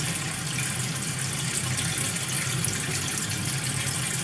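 Tap water runs steadily from a faucet as pipes are flushed with fresh tank water, a continuous, even rush of broadband noise that stays at constant level throughout.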